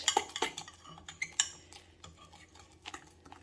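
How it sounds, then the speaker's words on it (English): Spoon stirring pancake batter in a bowl, rapid clinks and scrapes against the bowl, busiest at the start and then trailing off to lighter taps, close by. "Now I'm just going to give this a good mix and make sure it's well integrated"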